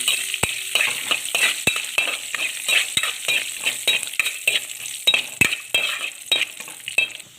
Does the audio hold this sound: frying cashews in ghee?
yes